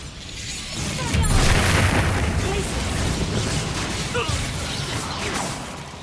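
An Expulso explosion spell cast in Hogwarts Legacy lands as a broad, booming blast with a whooshing burst of debris, swelling after a second and rumbling on under game ambience, with faint voice-like sounds mixed in.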